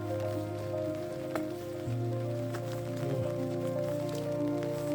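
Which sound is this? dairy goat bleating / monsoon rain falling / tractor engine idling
monsoon rain falling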